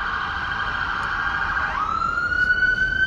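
An ambulance siren wails steadily, then its pitch drops and settles into a sustained high tone, fairly loud against a constant low background rumble.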